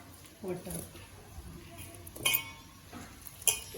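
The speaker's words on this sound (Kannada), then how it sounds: "So you'll have to mix this, make a paste by adding water." Bonda batter being stirred with water in a bowl for crispy onion bonda, with clinking of a utensil against the dish in a few distinct knocks while a person talks.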